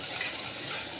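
Water poured into a hot pan of frying spices with green chillies and turmeric, a steady hissing sizzle that holds evenly throughout the short moment, close and moderately loud.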